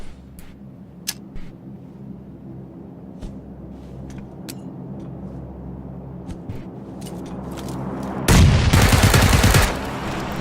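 Gunfire rings out in the video game PUBG: a few sharp, scattered shots early on, then a loud dense burst of rapid fire near the end, over a low steady rumble.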